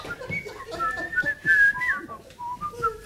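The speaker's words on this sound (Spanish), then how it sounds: "lo que vamos a hacer es silbar la melodía de Verano Azul" Someone whistles the melody of the Spanish TV theme Verano Azul on a game show stage, a clear solo tune of sliding, wavering notes.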